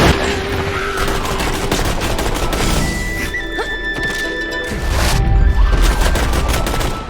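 Gunfire in Tiny Tina's Assault on Dragon Keep, a game battle with rapid overlapping shots, crashes and impacts filling the whole stretch, loud and dense with a few brief tonal effects between bursts.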